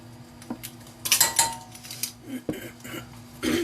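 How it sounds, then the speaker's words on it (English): Whisk or spoon scraping and clinking against a pan as butter and flour are stirred into a roux, with intermittent metallic taps and scrapes at close range. "Then we will stir. And that makes a roux, and you just cook that around for a minute."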